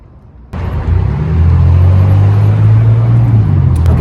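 Car on a road in the Rocky Mountains area: after a quiet moment, a loud low engine and road rumble sets in abruptly and holds steady, close and continuous from inside the vehicle.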